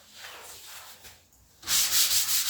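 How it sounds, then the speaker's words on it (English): A Black & Decker electric sander fitted with a 120-grit pad runs over wood, starting with light scratchy strokes and then swelling into loud, close, steady rasping sanding with rhythmic surges. "This doesn't require that much sanding unless I want to do a distress."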